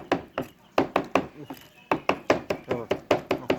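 Fish being chopped by hand with a cleaver for larb, a steady run of sharp, near thwacks on a cutting board, about a dozen strikes with a short pause in the middle.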